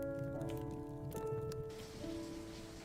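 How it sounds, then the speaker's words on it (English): Rain falling in the game Journal, a soft steady patter behind sustained tonal background music that fades partway through. "Like, oh, it's even raining too. It is raining."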